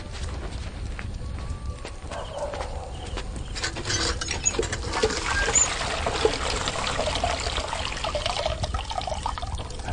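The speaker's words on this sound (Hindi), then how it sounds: "पानी भर रहे हैं" Water runs steadily into an automatic toilet, a continuous trickling and splashing wash lasting about ten seconds, moderately close, with faint background noise.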